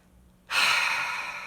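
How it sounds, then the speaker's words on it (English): A single deep breath begins abruptly after a short quiet pause, then holds as a close, airy, steady exhale that slowly fades, with no talking. "Keep breathing."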